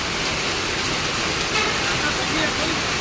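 Heavy rain falls in Kalimpong, a dense, steady hiss that stays constant and close throughout the short stretch.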